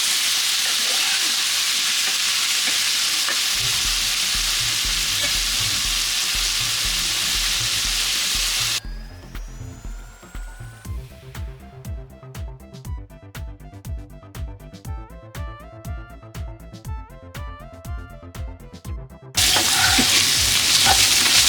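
Sliced bitter gourd with onion and green chilies fries in a pan, a loud steady sizzle and hiss with stirring scrapes, briefly replaced by music in the middle.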